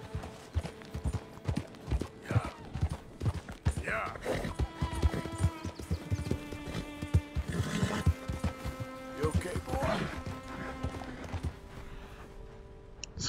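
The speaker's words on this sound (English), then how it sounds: "O cavalo está agitado" Horse hooves clip-clop repeatedly in a video game, with a few brief whinnies and neighs rising over steady game music and ambience throughout.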